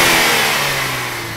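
A 2013 Ford Focus ST with a 2.0-liter turbocharged engine, rated at 252 horsepower, revs loudly and close by, its engine note easing and fading over the short clip with no voices.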